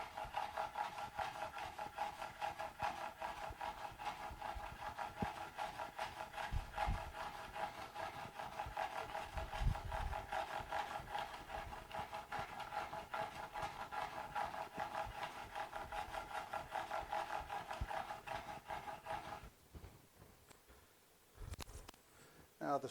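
A knife blade is stroked repeatedly across a 600-grit diamond sharpening stone, a steady rhythmic rasping scrape that runs for about twenty seconds before stopping, with brief handling noises at the end.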